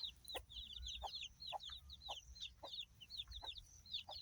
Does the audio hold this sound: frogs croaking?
no